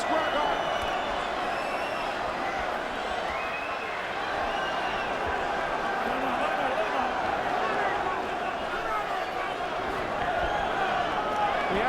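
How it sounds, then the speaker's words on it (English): Boxing crowd at Madison Square Garden during a heavyweight fight, a dense, sustained roar of cheering and shouting filling a big arena, steady and loud throughout, with a commentator's voice running over it. "Listen to the crowd here at Madison Square Garden."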